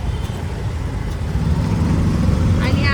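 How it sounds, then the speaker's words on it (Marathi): An auto rickshaw comes up from behind on a busy city road, its engine a steady low rumble blending into continuous traffic noise, with talk over the top. "अजून एक रिक्षा आहे ती पाठीमागनं येते"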